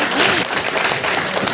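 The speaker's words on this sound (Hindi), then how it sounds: "ऐसा कहें भाई बजाओ तालियां" Audience applause for a singer at an open mic and food carving event at RGSC BHU, a dense continuous wash of many hands clapping, loud and steady throughout the short stretch, with a voice faintly audible underneath.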